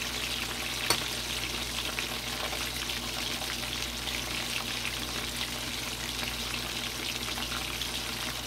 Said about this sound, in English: So I'll just let them fry on one side for about 10 to 15 minutes